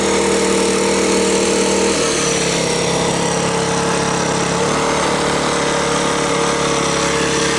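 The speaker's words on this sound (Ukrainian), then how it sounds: "і зараз побачимо, чи виживе цей генератор. що працює рівно" Weekender 3500i inverter generator engine runs loud and steady under load, with a constant droning hum whose pitch drops slightly partway through.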